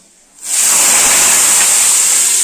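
Washed shelled green peas are tipped into a hot oiled kadhai in a Chhattisgarh village kitchen, setting off a sudden loud hissing sizzle that starts after a brief quiet moment and holds steady and close.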